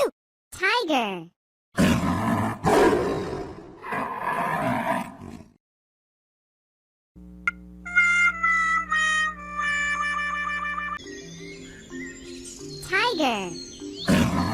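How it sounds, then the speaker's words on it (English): A tiger's roars and grunts come in short bursts, broken by silent gaps, with a bright chiming jingle and a child-like voice mixed in between. "Tiger."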